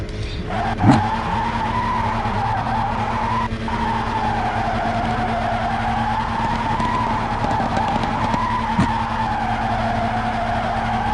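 Race car tires squealing and skidding during a quick tire warm-up in the Assoluto racing sim, a steady wavering screech over a constant engine drone that lasts throughout, with two brief sharp bursts near the start and end.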